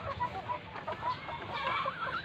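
Hens clucking close by in a chicken pen, a busy overlapping chorus of short clucks and murmuring calls from several birds, steady and moderately loud with no talk.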